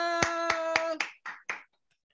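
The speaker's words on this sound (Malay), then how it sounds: "jom kita beri satu tepukan untuk Lofa" A small group of course participants clapping together for a classmate, a few sharp synchronized claps in even rhythm that break into looser, scattered claps and then stop, heard close in a quiet room.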